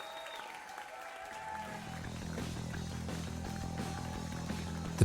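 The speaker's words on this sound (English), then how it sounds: "The applause turns to cheers, and the cheers turn to uproar." Crowd applause in a video game swells from a faint patter into a steady, dense wash of clapping that grows louder, with a thin tone fading out at the start.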